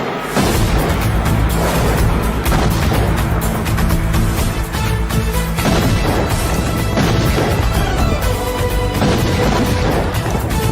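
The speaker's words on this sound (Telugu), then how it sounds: "బాంబులు ఆపుండ్రి" Bomb blasts in a Telugu action film scene: heavy booms and crashing impacts fill the whole stretch, loud, dense and nearly continuous, with no pauses.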